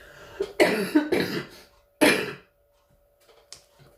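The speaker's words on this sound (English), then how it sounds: "excuse me, I'm going to cough." A few sharp, close coughs in quick succession, then a pause and one more harsh cough, followed by faint rustling.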